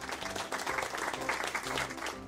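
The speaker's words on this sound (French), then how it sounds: "On peut l'applaudir?" A group applauds a dog after a challenge, a close, continuous patter of clapping that stays dense and even for the whole short stretch, with a faint steady tonal hum underneath.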